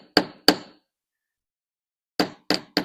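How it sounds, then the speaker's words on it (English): A tracing hammer strikes a wire jewelry link on a metal bench block: two sharp close metallic taps, a silent gap, then three more quick strikes in a row. "let's hammer this link to be flat, like this"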